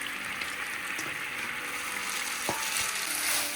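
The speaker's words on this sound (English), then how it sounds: "I'm gonna bring my cooked ramen noodles and I'm gonna dump it right in the pan." Cooked ramen noodles dropped into a hot frying pan for a ramen egg dish, a steady sizzle with a soft thump and clatter as they land.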